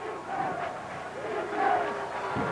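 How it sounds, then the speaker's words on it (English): Spectators at a 1999 college football game between Wabash and DePauw roar and chant for the defense, a rising, sustained crowd din with yelling voices that swells toward the middle and stays loud. "You can hear the crowd on the near side getting wound up defensively for the DePauw defensive unit."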